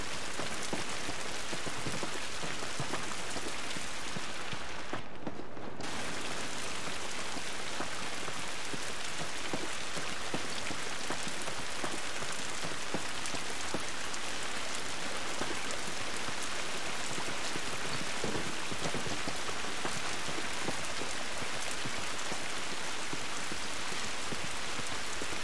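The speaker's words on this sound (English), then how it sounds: "This rain ain't gonna do us any good." Steady, heavy rain falls outdoors in the video game The Last of Us, a dense continuous hiss of drops on surfaces that holds throughout with only a brief dip, and no voices.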